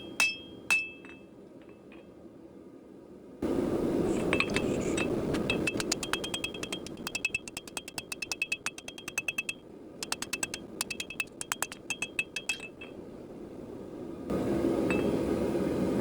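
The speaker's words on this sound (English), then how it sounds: "make sure you dress the sides as you're hammering the tip in." Rapid ringing hammer strikes on hot steel come in quick bursts while a small knife tip is forged on an anvil, sharp and close, with pauses between runs.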